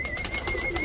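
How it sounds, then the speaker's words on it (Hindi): A highflying pigeon at a loft in Surat gives a brief, soft coo, close by, over steady outdoor background noise. "ये देखिए भाई, ठीक है, बहुत खूबसूरत कबूतर।"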